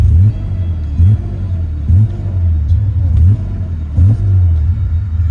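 A car engine, loud and close, surges in repeated short bursts, roughly once a second, as it hits a rev limit and falls back each time.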